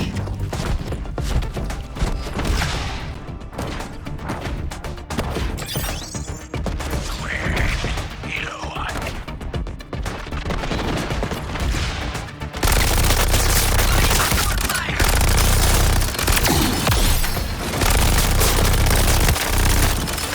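Sustained gunfire from the video game Suicide Squad: Kill the Justice League, rapid bursts and shots overlapping with explosive crashes and game effects, loud and dense throughout, growing heavier in the last stretch.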